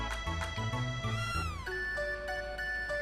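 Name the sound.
cat meowing in Chrono Trigger video game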